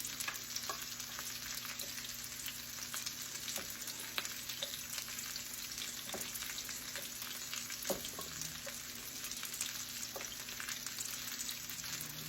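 Brussels sprouts fry in grease in a skillet, giving a soft, even sizzle with fine crackles and the occasional small pop, steady and fairly quiet from start to finish.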